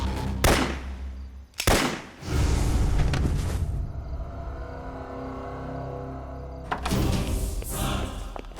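Loud, sharp gunshots ring out, two close together at the start and another later, with a rumbling, booming tail between them.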